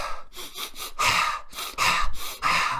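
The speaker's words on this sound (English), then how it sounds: "The breathing exercise, that just felt good just right there." During a breathing exercise, a person takes deep breaths close to the mic, with several long airy inhales and exhales in a slow, uneven rhythm.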